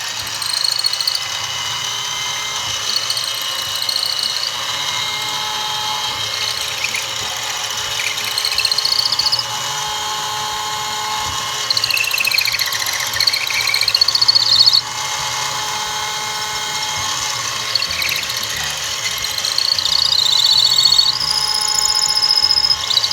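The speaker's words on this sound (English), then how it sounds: "now let's continue drilling." A steady, continuous whirring drone of a drill boring into wood on a lathe runs throughout, with shifting high-pitched whine and no speech.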